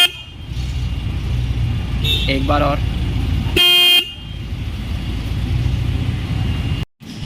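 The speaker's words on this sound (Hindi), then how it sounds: "हंटर बाइक में आपको सिंगल हॉर्न मिलता है।" A Royal Enfield Hunter 2023 motorcycle's single horn gives one loud, steady honk of about half a second, close by over a constant low engine or traffic rumble, with a voice speaking briefly before it.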